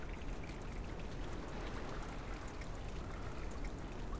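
Rushing, rising water in the side-scrolling puzzle game Limbo: a steady, loud, hissing wash of flowing water that stays even throughout, with no pauses and no voices.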